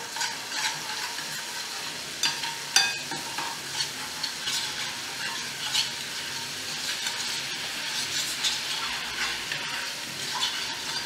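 Garlic paste sautés in a pan for an egg masala curry, a close, soft, continuous sizzle broken by scattered clicks and scrapes of a stirring spoon, with no voices.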